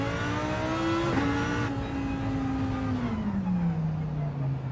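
A Lamborghini Huracan GT3 race car in Gran Turismo 7 revs loudly at night. The engine note rises, dips sharply as if through a gear change, then falls away steadily.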